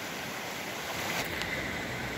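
Mountain stream water flowing down a slope outdoors, a steady broadband rush with no breaks, fairly close and moderately loud, with no voices.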